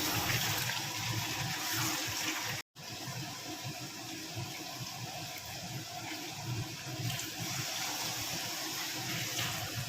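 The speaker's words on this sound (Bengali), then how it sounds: "এবারে দিয়ে দেব পরিমাণ মতো জল" Hot water pouring into a pot of mutton curry with fried potatoes, a loud continuous gushing splash with a brief break near the start.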